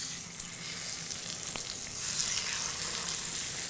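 Salmon fillets laid skin side up into an oiled hot pan: steady close sizzling and frying that swells louder partway through and continues without a break, with no voices.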